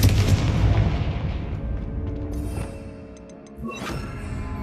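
A blast spell explodes in a fantasy wizarding video game, opening with a heavy booming burst that rolls and decays over several seconds, followed by a second sharper crack near the end, loud and close with no talk.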